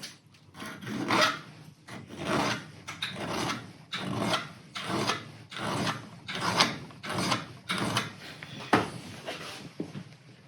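Metal file rasping off a burr on a Yamaha TW200 motorcycle part, a steady run of about a dozen rhythmic back-and-forth strokes, close and moderately loud, with no voices.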